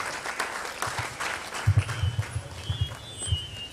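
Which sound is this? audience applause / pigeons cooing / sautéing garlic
audience applause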